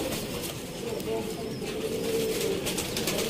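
Pair of Lakha pigeons cooing softly under continuous male speech, with low murmuring coos against a steady background.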